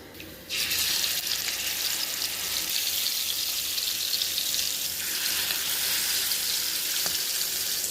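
Slices of seer fish (vanjaram) sizzle steadily in hot oil, a dense, loud crackle that starts abruptly after a brief quiet moment and carries on evenly with no talking.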